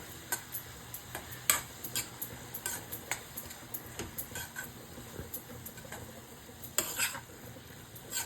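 Amaranth stem curry with sesame cake stirred in a pan, a faint stream of soft scraping and clicking strokes in an irregular rhythm over a light sizzle.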